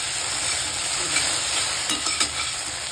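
Okra fries in a kadhai with a steady, close sizzle and a few light stirring scrapes near the end.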